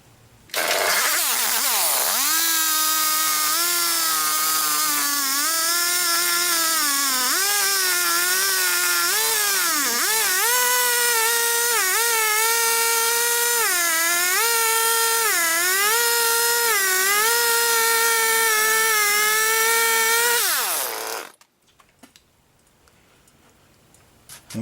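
A chainsaw cuts steadily through a Bradford pear trunk to make bowl blanks, its loud, close whine holding for about twenty seconds with pitch dipping and rising under load before cutting off into quiet.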